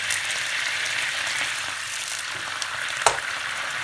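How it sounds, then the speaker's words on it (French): Chicken pan being deglazed after cooking, giving a steady bright sizzle throughout with a brief sharp hiss near the end, close and alone with no talking. "c'est important de déglacer les poêles parce que c'est là où il y a tout le sucre"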